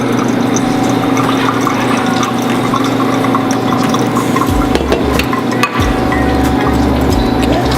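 Hot water is poured into a coffee vessel to warm it before brewing, a steady running stream that fills and drains continuously, with no talking.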